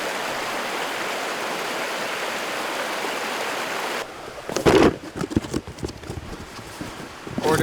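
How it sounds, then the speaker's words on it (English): A high-running river in Vermont rushes with a steady, dense hiss for several seconds, then gives way to close, uneven knocks and handling noises. "The river is high right now."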